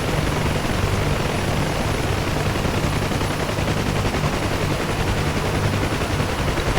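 A helicopter in the DCS flight simulator sits light on its skids, its rotor and engine holding a dense, unbroken drone with a rhythmic thumping pulse throughout.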